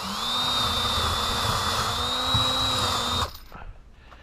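Power drill driving a screw into a dense oak joist in a cellar, a steady loud whine with a low motor hum for about three seconds before stopping abruptly, leaving faint room noise.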